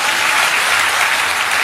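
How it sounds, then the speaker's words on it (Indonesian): A church congregation applauds during a sermon, a loud, dense and continuous wash of many hands clapping at once, steady throughout with no distinct individual claps and no talking. "Tepuk tangan dong biar saya juga semangat."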